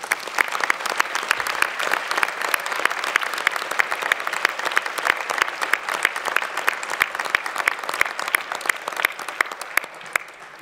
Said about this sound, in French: Eux aussi, je veux bien que vous les applaudissiez.